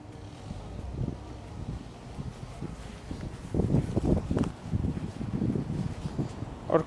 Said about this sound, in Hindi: और काफ़ी ठंडी हवा चल रही है